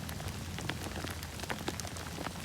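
Steady rain patters onto wet grass at an old settlement site outdoors, a dense continuous hiss sprinkled with distinct close droplet ticks, no talking.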